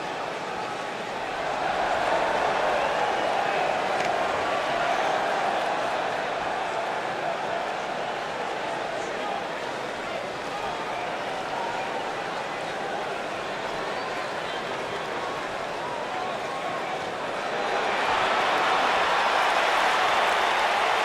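Arena crowd noise in WWE 2K19, a steady broad roar of spectators that swells louder near the end as the audience rises for wrestler Johnny Wrestling, with no talk over it.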